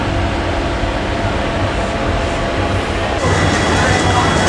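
From inside a moving train nearing Agartala in Tripura comes a loud, steady broadband rumble and rattle that holds throughout and swells slightly near the end.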